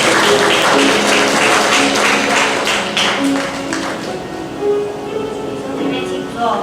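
A congregation claps in rhythm during a worship song at a church youth memorial Sunday service, a steady beat of many hands under loud singing and music that fades toward the end.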